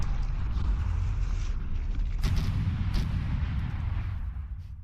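Heavy video game gunfire with rounds striking and bouncing off a player-built design, a dense, continuous booming barrage with a couple of sharper cracks midway.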